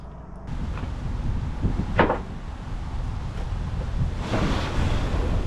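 Strong wind blowing across open water during kayak fishing for snook, a steady loud roar with gusts and surf-like washing, close to the microphone and continuous throughout, with no speech.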